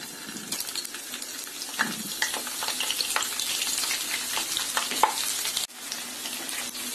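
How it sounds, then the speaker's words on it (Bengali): Cauliflower florets fry in oil left over from browning onions for a cauliflower korma, a steady close sizzle broken by clinks and scrapes of a utensil against the pan and a brief cut-off near the end. "যে তেলে আমি পেঁয়াজ বেরেস্তা তৈরি করেছি সেই তেলে আমি এই ফুলকপিগুলি একটু ভেজে নিব।"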